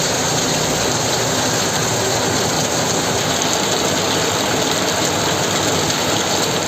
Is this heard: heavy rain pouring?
yes